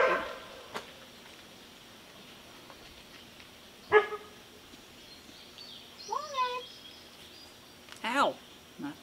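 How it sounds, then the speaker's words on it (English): A dog barks a few sharp times at a distance while blocks are laid on a new footer, heard over faint outdoor ambience with birds chirping. "She's probably barking at a bug or something."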